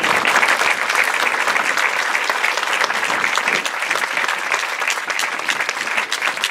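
Audience applause at the inauguration of a multipurpose hall in Silla fills the room with steady, dense clapping from a large crowd, loud and sustained with no talk over it.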